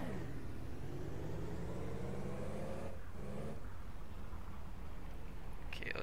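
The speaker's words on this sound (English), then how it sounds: "let's decide which way we gotta go by driving straight. Right into the guardrail" A car in the Ranch Simulator game drives with a continuous loud engine rumble, the tone rising and shifting as it heads straight, with a brief dull change near the middle that may be the guardrail impact.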